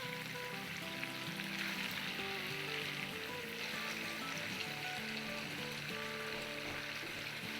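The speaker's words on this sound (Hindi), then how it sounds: "उसके बाद उलट पुलट के फ्राई करेंगे।" Chicken pieces fry in a pan for an Anthrangi chicken dish, a soft, continuous sizzle with a tonal background running beneath it.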